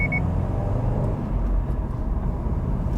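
A single short, high shift-point beep set at 3,000 RPM chirps at the very start inside a 2021 Subaru WRX STI, over a steady low engine and cabin drone.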